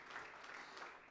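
A church congregation claps hands in praise at a Pentecostal service, a brief dense wash of applause heard at a distance, faint and steady.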